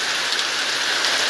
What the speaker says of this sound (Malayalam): ഇതിലെ പോയി കഴിയുമ്പോൾ പെട്ടെന്നാണ് മഴ എത്തിയത്.